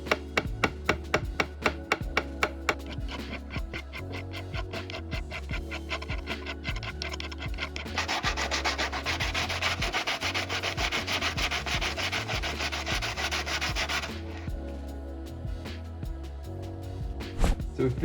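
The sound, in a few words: sanding back engraving work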